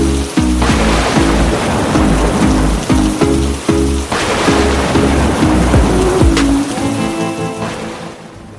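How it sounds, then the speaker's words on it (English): Heavy storm rain pounding a car windshield while driving, a loud dense wash of drumming drops with a low rumbling undertone that fades away near the end. "The rain slammed against the windshield"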